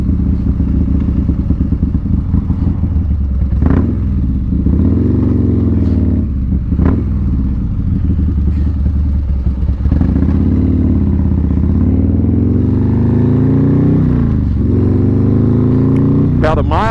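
A Harley-Davidson Street Glide motorcycle cruising on a road, its engine rumbling low and steady with a few gear-shift dips and rises, heard close under a rider's continuous talk.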